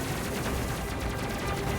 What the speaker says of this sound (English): Hopefully the plasma cannons do more damage.